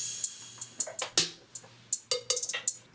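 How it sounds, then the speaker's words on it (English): Hip-hop beat percussion plays alone, with crisp snare and hi-hat hits in a bouncy, syncopated pattern over a faint low hum, the hits short and fairly quiet. "All the percussion together sounds like"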